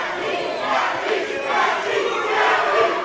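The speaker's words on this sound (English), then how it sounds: "the crowd coming alive for him" A wrestling event crowd roars and cheers continuously at a professional wrestling show, a dense, loud wash of many voices filling the arena from start to finish.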